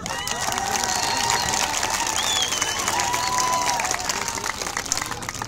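Crowd at an under-18 Eid cup youth football tournament in Jaghori clapping and cheering, a steady wash of applause with shouting voices and a few whistling calls running throughout.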